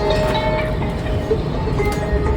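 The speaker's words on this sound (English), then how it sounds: "We speed through the tunnel, roads look like street past the train." A Washington Metro train speeds through a tunnel with a steady, loud rumble and rattling wheel noise, plus faint high squeals from the rails.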